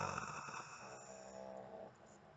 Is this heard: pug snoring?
yes